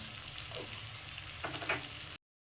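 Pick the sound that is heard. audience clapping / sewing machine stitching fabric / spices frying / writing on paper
spices frying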